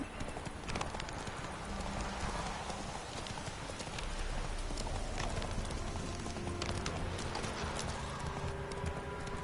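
Roach the horse galloping in The Witcher 3 video game, a fast and steady run of hoofbeats that carries on throughout the clip over a busy game soundscape.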